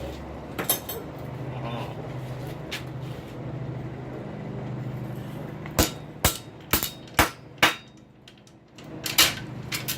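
Heavy hammer blows flatten a rail spike being shaped into a door handle, a run of about six sharp metallic strikes at uneven intervals, preceded by a low mechanical hum and a few lighter knocks.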